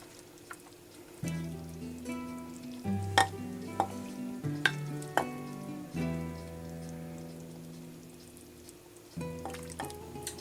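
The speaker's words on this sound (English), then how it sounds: "So I'm going to ladle just a little bit into my bowl and do a taste test." Chicken soup ladled from a crock pot into a bowl, with a few sharp clinks of the ladle against the pot and soft liquid splashes over a low steady hum.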